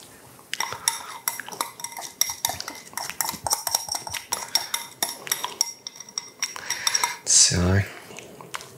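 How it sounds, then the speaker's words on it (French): Utensils scrape and clink steadily against a pan while carbonara pasta is tossed and mixed, the busy clatter running throughout with one louder knock near the end. "On va bien mélanger tout ça."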